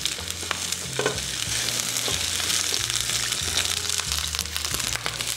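Cauliflower steak seasoned with salt and pepper sizzles steadily on a grill, a continuous bright crackling hiss with small pops, close and alone, while something is shifted around on the grates.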